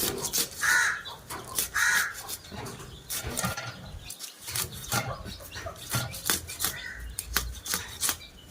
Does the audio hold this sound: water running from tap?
no